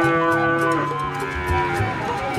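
Cattle moo at a calf seller's pen, a loud, drawn-out lowing call that falls away into mixed farmyard noise close by.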